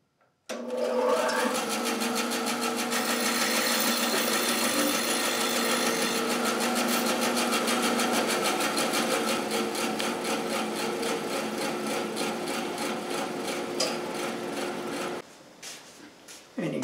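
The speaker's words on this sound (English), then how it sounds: "I cut that wedge right against this sacrificial fence, perfectly straight" A table saw fitted with an Accu-Wedge jig cuts a wedge against a sacrificial fence, a loud steady whining buzz running for about fifteen seconds before the blade spins down, with no talk over it.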